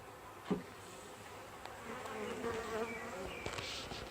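Honey bees buzz steadily around a Flow Hive Hybrid being fed sugar syrup, a dense close swarm hum with individual insects flying past the microphone.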